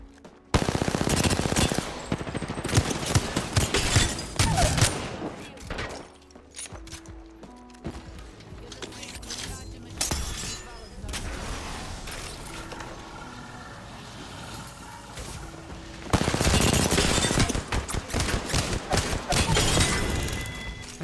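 Rampage weapon firing in an online shooter, loud sustained automatic bursts at the start and again near the end, with quieter clanks and scattered game effects in between.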